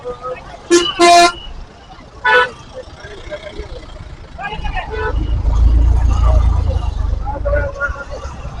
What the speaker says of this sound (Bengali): যার কারণে পুরো রাস্তাটা জ্যাম হয়ে গেছে